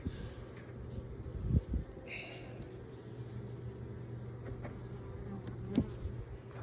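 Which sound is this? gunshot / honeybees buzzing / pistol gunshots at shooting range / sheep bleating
honeybees buzzing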